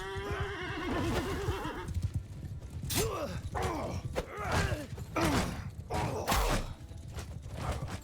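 Cavalry horses in a medieval strategy game battle whinny repeatedly in loud, overlapping neighs amid clattering hooves and the din of combat.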